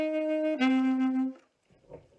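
Alto saxophone plays a short riff from a song, two sustained notes with a brief flourish, close and clear, alone before trailing into quiet.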